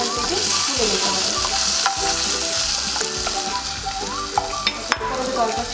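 Paneer frying in a pan gives a loud, close, continuous sizzle, with stirring scrapes and a few sharp clicks of a utensil against the pan, and no talk.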